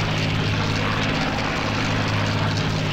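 WWII bomber aircraft engines droning in a Battle of Britain combat flight game, a steady low propeller hum with a deep tonal throb, continuous and loud, no speech over it.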